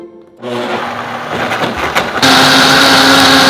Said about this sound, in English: let's get this blender started so we can make our smoothie